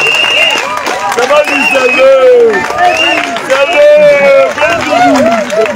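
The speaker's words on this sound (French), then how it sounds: "Applaudissez le président Laurent Gbagbo, le premier des pères." A large audience applauds President Laurent Gbagbo, loud, continuous clapping blended with cheering and excited shouting voices that rise and fall close by throughout.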